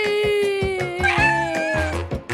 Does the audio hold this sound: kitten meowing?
yes